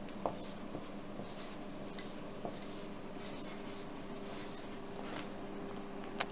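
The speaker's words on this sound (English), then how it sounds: "So let me write it down." A marker writing on a surface, with close, squeaky scratching strokes coming in short repeated bursts over a quiet steady room background.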